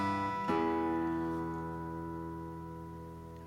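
A guitar plays the opening phrase of a song, a bright plucked attack with ringing harmonic notes that sustain and slowly fade, heard alone and close.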